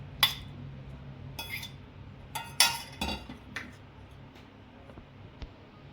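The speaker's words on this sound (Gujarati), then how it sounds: "વ્હાઈટ બરફી એડ કરી અને આ રીતે આપણે તો વાટકાથી આ રીતે આપણે દાબડી દીધું છે વ્હાઈટ બરફીને" White coconut barfi being pressed into a greased plate with a bowl, heard as a handful of sharp clinks and taps of metal and dishware spaced irregularly against quiet room tone.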